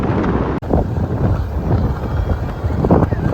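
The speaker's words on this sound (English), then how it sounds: "So ridiculously windy all of a sudden." Strong wind on a beach roars and buffets the microphone nonstop, a loud rumbling gust that barely lets up.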